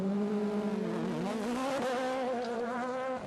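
Mikko Hirvonen's Ford Abu Dhabi rally car drives a stage of Rally Australia 2011, its loud, close engine note climbing and dipping through gear changes in one continuous run.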